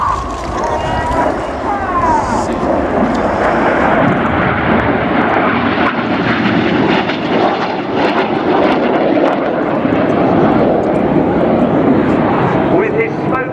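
Red Arrows jets pull up in a wide formation trailing smoke at the team's 2014 50th anniversary air display. A loud, steady roar of jet engines fills the whole stretch beneath a public-address commentator.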